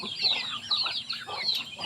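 Native backyard chickens clucking close by after a typhoon, several overlapping calls in a steady, busy stream with no talking.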